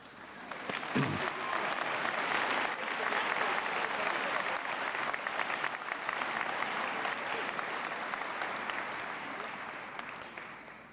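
Sustained audience applause at a university spring convocation, a dense, steady roar of many hands clapping that fills the hall for around ten seconds before gradually tapering.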